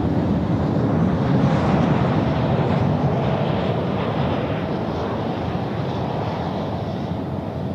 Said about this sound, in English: we don't often get to see the landing of the Max